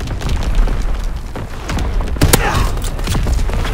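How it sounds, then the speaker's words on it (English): Enemy artillery explosions in Call of Duty: WWII rumble as dense, overlapping booms and thuds, with a sharper crack midway, forming a loud continuous barrage of battlefield noise. "Incoming enemy artillery! Get to cover!"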